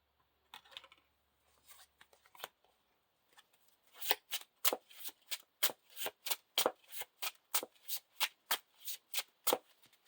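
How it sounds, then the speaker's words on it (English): A deck of cards for the Lord of the Rings living card game being shuffled nearby, a few soft riffles first, then a quick, crisp run of repeated card snaps. "Shuffle the encounter discard pile into the encounter deck."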